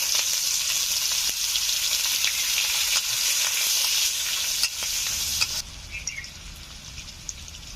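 Chopped onion hitting hot oil for an egg masala curry, a bright, loud sizzle with stirring clicks that drops off sharply near the end to a quieter crackle.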